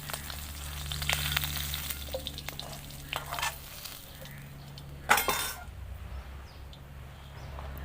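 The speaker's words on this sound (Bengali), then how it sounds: "চিংড়ি মাছ খুব একটা কড়া করে ভাজবো না, হালকা করে ভেজে নিচ্ছি" Prawns sizzle gently in oil in a kadai wok, a soft continuous fry broken by occasional clinks of a utensil and a low background hum.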